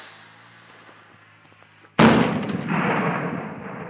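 A Vampire firework goes off with one sudden sharp bang, followed by a crackling, hissing burst that trails away over the next couple of seconds against faint background noise.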